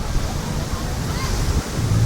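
Strong sea waves at Sibuco beach crash and churn as a continuous low roar, buffeted by wind rumble on the microphone, with no pause between the surges.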